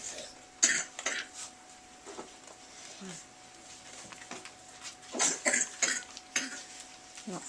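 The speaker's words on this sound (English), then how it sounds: "I have more coughs." Someone coughs and clears their throat in short, separate bursts scattered through the stretch, close by and moderately loud, with quiet talk and faint clinking in the background.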